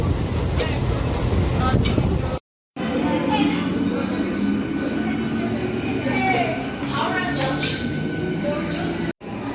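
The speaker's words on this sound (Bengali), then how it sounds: "উঠে পড়লাম লোকাল ট্রেনে, পাঁশকুড়া যাব।" A local train bound for Panskura rattles and rumbles continuously, with wind buffeting the microphone and brief dropouts, while people talk over the steady ride noise.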